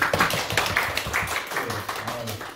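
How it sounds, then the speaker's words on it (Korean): A church congregation clapping briefly, a quick patter of hands that fades within a couple of seconds while a voice carries on over it. "박수 한번 하네요."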